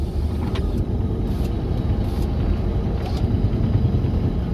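A 1988 Ford F150 pickup engine runs close by, a steady rumble with a slightly uneven, lumpy misfiring rhythm, droning on without pause.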